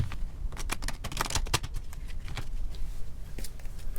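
Tarot cards being shuffled by hand during a reading, a run of crisp, close riffling and flicking bursts with short pauses between them, no talking over it.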